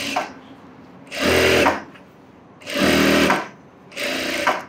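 A sewing machine runs in three bursts of stitching through fabric, each about half a second to a second long, with quiet pauses between. It is loud and close, and no one speaks.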